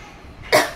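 A single short, sharp cough from a sick woman with a dry cough, close and loud after a quiet moment.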